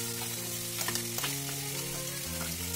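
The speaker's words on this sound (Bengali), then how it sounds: "এই আলুটাকে আমি চিকেনের সাথে ভালোভাবে মিশিয়ে দেবো।" Boiled potato stirred into dry frying chicken stuffing for bread rolls, a soft close sizzle with spatula scrapes and stirring taps, quiet and steady with no talk.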